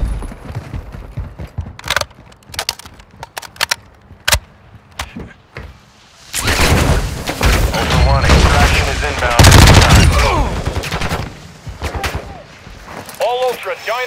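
Heavy automatic gunfire erupts in a Call of Duty Modern Warfare 2 DMZ match, scattered single shots giving way to loud sustained bursts, with radio voices and talk in between.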